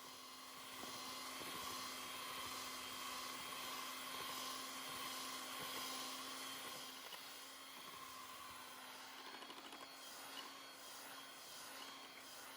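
An electric mixer beats lime pound cake batter, a steady, quiet motor whir with a faint high whine that runs without a break from start to finish, with no talking.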